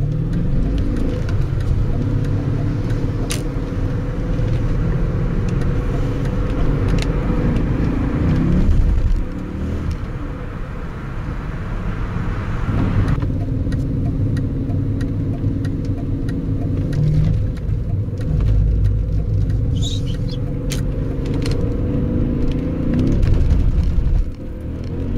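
A BMW E39 M5 with the S62 V8 drives along, its engine a loud, steady rumble under road and cabin noise. The pitch shifts as the revs change, and no one speaks.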